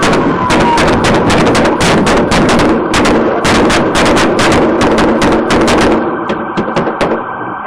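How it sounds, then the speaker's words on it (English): Automatic gunfire from a Glock pistol fitted with a switch and a 100-round magazine during a Houston police shootout, heard as loud, dense bursts of rapid shots that fire repeatedly and then thin to a few scattered reports near the end. "Here's a video of a shooting between Houston police and a guy with a Glock switch and a 100-round mag on his Glock."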